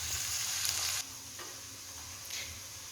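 Vegetables and corn frying in a pan for corn rice, heard as a quiet, even sizzle that dips slightly partway through, with faint stirring scrapes.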